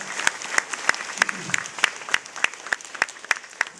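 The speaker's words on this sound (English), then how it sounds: "I think they deserve another big round of applause." An audience at a school assembly applauds, with crisp claps falling into a fairly steady, regular rhythm over a soft wash of crowd noise, close and moderately loud throughout.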